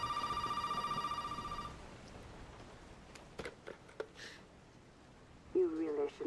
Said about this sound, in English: Phone call. Now, who's calling at this time of night?